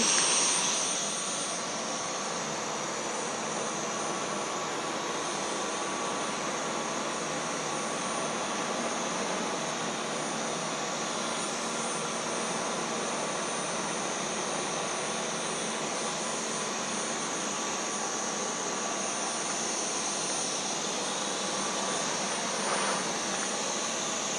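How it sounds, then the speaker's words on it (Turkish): A Dyson V12 cordless vacuum cleaner runs indoors with a loud, even, high-pitched whir that starts abruptly and holds steady for over twenty seconds with no talk. "Hemen açıyorum süpürgeyi."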